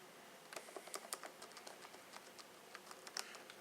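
Someone types on a small keyboard built into a GameCube controller. The keys give quiet, uneven clicky taps in short bursts, close by, with no voices.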